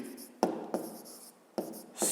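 Chalk or marker writes on a board during a math exercise, with sharp taps and scraping strokes in short bursts separated by brief pauses, close and fairly loud.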